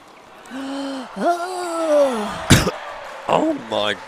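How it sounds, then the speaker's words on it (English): A person in a sports hall gives a sudden sharp cough amid vocal gasps and throat sounds, close and moderately loud, alongside brief voiced exclamations. "I didn't mean to cough."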